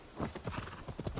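Horse hooves clip-clopping in the video game Assassin's Creed Valhalla, a quick run of rhythmic thuds with a brief whinny, steady and fairly close.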